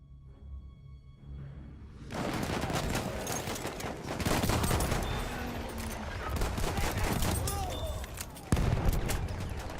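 Gunfire in the shooter Battlefield 1, including pistol shots, crackles through a busy battlefield after a quiet opening, with loud, close, irregular reports amid wider combat noise and one sharp blast near the end.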